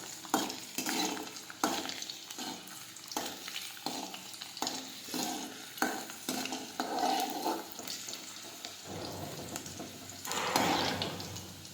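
Garlic fries and sizzles in a pan while being stirred, the crackling steady and close with repeated scraping strokes of the spoon against the pan, no voices over it.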